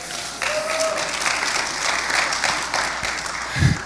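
An audience claps steadily and fairly loudly, a sustained patter of many hands.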